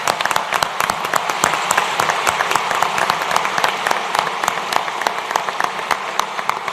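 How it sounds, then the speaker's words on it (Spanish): A seminar audience at an international law event breaks into dense, lively applause, with many hands clapping continuously at a strong, even level throughout. "yo pido para ustedes un gran aplauso"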